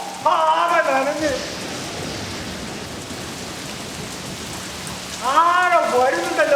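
Heavy rain pours down outside a church in Ernakulam as a dense, steady patter of drops on surfaces, with someone speaking over it at the start and again near the end.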